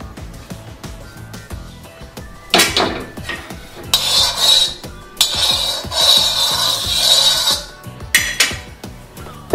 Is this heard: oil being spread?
yes